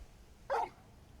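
Torgal, a large dog in Final Fantasy XVI, lets out a single short, fairly loud bark from close by against a quiet background.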